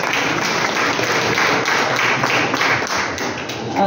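An audience at a book lovers' annual gathering in Satara claps continuously and evenly, a dense, steady applause with no talking.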